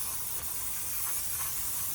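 A steady, continuous hiss of aerosol brake cleaner sprayed onto the rear drum brakes of a 1969 Mercury Cougar XR7 Convertible, close and even for about two seconds with no talking.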